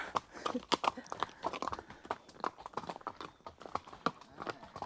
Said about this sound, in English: You're on top of a big horse.